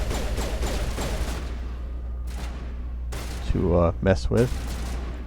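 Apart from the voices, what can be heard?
gunfire in the video game Mass Effect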